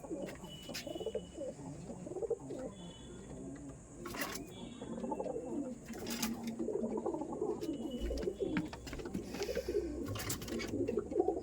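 Frightened pigeons coo softly and repeatedly close by, with low throaty calls, occasional sharp knocks and rustles, and a faint voice in the background.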